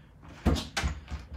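A kitchen cabinet door in a renovated Venice, Florida home opens and shuts: two close, solid wooden knocks about a third of a second apart, then softer settling clicks.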